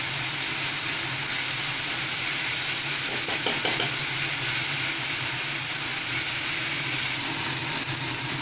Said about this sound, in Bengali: চিকেনগুলোকে ভালোভাবে ফ্রাই করে নিতে হবে।